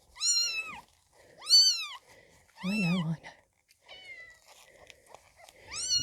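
A young Birman kitten meows repeatedly up close, several high, drawn-out cries in an irregular rhythm, with a brief spoken remark between calls.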